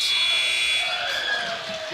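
A steady, loud electronic game clock buzzer sounds at halftime in a high school varsity basketball gym, holding for about two seconds over faint crowd noise.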